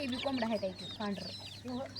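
Grandmother's backyard rooster gives a series of close, throaty clucks in short bursts, with brief pauses between the groups.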